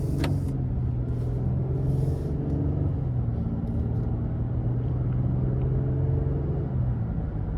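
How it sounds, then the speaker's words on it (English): A 2023 Nissan Frontier SV crew cab pickup with a traditional transmission drives on the road, its steady low engine and road rumble heard from inside the cab, constant and fairly loud with no talking. "let's go ahead and take this 2023 Frontier SV out on the road for a quick test drive"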